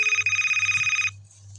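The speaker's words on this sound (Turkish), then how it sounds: "Oha bildirim yağmuru yağıyor." A bright electronic phone alert tone rings steadily for about a second, then cuts off, leaving a low background hum.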